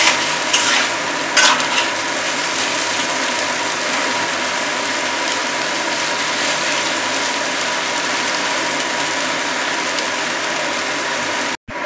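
Spices are lightly fried for chira pulao, giving a steady, dense hiss of sizzling oil with a few scraping stirs near the start before it cuts off abruptly at the end.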